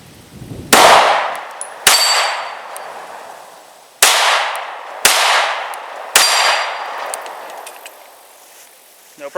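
Five sharp, loud gunshots from a Smith & Wesson M&P 2.0 Compact pistol loaded with SIG V-Crown jacketed hollow points, fired at an uneven pace over several seconds, each crack followed by a brief ringing decay.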